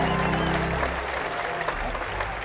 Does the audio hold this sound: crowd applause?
yes